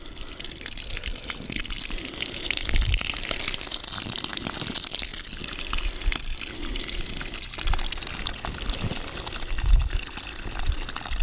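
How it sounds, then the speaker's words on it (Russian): Water pours into a planting hole dug in garden soil for an autumn conifer transplant, a continuous rushing, gurgling flow with occasional heavier splashes, steady and fairly close, with no talking. "Опять набираем яму водой."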